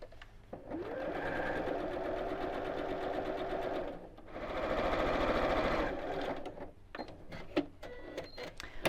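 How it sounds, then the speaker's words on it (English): A sewing machine stitches darts into fabric for a reversible fabric bowl, running in two long steady bursts with a short pause between, followed by quieter clicks and handling sounds. "So I've sewn down here and then back up on the fold"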